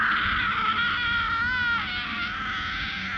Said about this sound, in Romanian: Era un țipăt de femeie